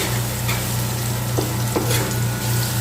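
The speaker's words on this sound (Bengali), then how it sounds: "ধনে গুঁড়ো, জিরে গুঁড়ো। তারপর এইটাকে একটু সময় ফ্রাই করে নেব।" Coriander and cumin powder fry with chilli powder in a pan of onions for beetroot fry, giving a dense, even sizzle with a low hum beneath and a couple of faint stirring taps.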